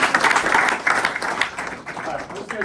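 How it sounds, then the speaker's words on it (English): An audience at a sailing show event gives a short burst of clapping, loud at the start and tapering slightly. The crowd is close, with a little overlapping voice noise. "let's give a huge round of applause for these guys for getting this"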